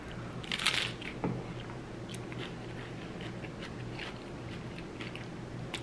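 Close-up crunching of a crunchy tortilla being bitten and chewed: a few sharp crackly bites up front, then quieter rhythmic chewing over a steady low background hum.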